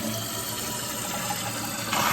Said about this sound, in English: We'll flush.